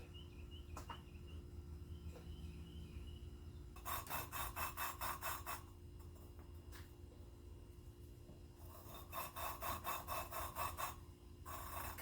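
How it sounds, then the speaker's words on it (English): Sportster engine valves being lapped with a suction cup and lapping compound, two bursts of quick back-and-forth gritty rubbing over a low steady hum, faint and close, with quiet gaps between; no talking. "just gonna lap these valves in here. Got our suction cup here, little lapping compound."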